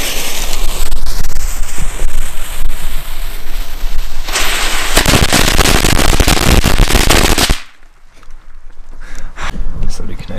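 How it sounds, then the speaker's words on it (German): A firecracker chain explodes in a dense, loud, rapid crackle of bangs for about seven seconds, then cuts off abruptly to a quieter background. "die Knallkette war auf jeden Fall richtig heftig"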